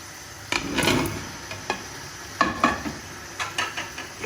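Turnips hit a pan of cooked masala for turnip chicken, giving soft bursts of sizzling and scraping stirs in uneven strokes, moderately quiet with no talking.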